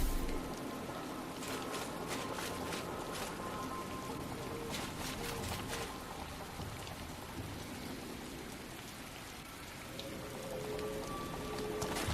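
Steady rain falls in the video game Chrono Odyssey, a dense continuous patter of raindrops on surfaces that stays even and fairly quiet throughout, with no talking.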